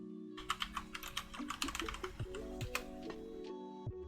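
Someone types quickly on a computer keyboard close to the mic, with a rapid run of crisp keystrokes over a faint steady hum and no speech.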